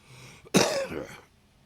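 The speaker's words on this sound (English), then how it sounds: "not a COVID cough right there" A single sharp cough bursts out close by, then trails off into quiet.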